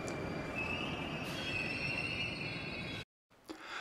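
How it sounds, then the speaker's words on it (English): Moscow Metro train pulling into a station, a loud rumbling roll with a high, steady wheel squeal running over it, then a brief cut to silence before the station din returns. "Wait for the train."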